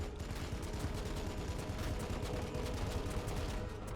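Dreadnought gunfire in the strategy video game Battlesector: a dense, continuous barrage of booming, rattling shots with rumbling low end, loud and sustained throughout without pauses.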